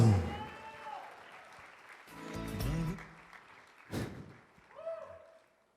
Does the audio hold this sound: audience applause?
yes